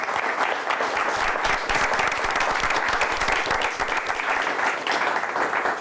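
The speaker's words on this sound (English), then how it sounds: "let's give Mount Pleasant Sacred Heart a nice round of applause" Sustained, dense applause from a crowd at a school quiz competition, steady and fairly loud throughout with no pauses.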